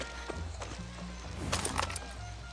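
Horse hooves clop in a quick, uneven series in Far Cry 6, moderately close and growing louder toward the end of the short stretch.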